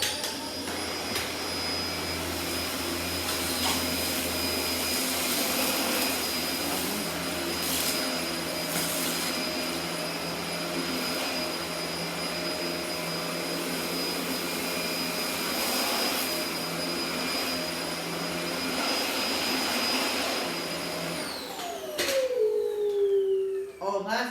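A Dyson DC-24 vacuum cleaner runs indoors with a steady, loud whine and broadband rush that holds for about 21 seconds, then shifts abruptly as the motor changes state near the end.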